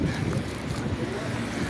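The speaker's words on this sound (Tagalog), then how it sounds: "Ay, masarap-sarap yung hangin." Wind gusts outdoors in Dubai, a loud, continuous rushing buffet across the microphone with no clear other sounds.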